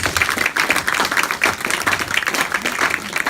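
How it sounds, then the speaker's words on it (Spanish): Church congregation applauding during a Spanish-language service, a dense, steady wash of many hands clapping at close range, sustained evenly with no speech over it. "Denle un aplauso al Rey."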